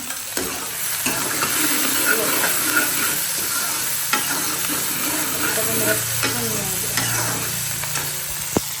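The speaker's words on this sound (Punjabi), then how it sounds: "ਲੋ ਜੀ ਸਾਗ ਤੜਕਾ ਤੜਕਿਆ ਗਿਆ" Saag greens tempered in a pan, a steady loud sizzle and frying hiss running throughout, with occasional utensil taps and stirring strokes close by.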